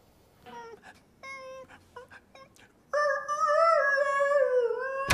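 A young puppy left alone in a basket on its first night away from its littermates lets out a string of short, high whimpers, followed by a louder, sustained crying howl.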